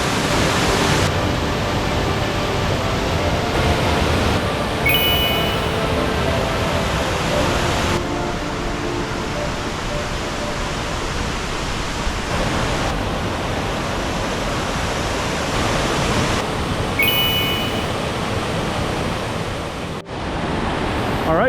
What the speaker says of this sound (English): that noise behind me is yet again another waterfall